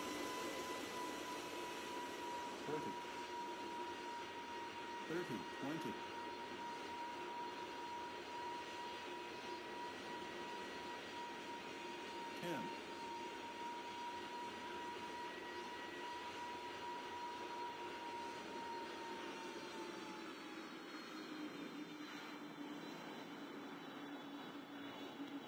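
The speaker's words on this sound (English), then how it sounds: "we are landing now" A jet airliner lands, with a steady, faint engine roar and a high whine that hold for most of the clip, a few soft thumps, then the tone drops and fades as the plane slows near the end.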